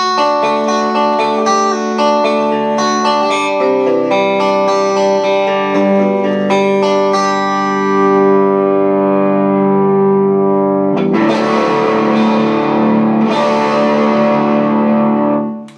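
A clean, chiming electric guitar through a Vox AC15 amp model plays ringing chords and single notes that sustain and decay, then a fresh strum near the end, loud and alone.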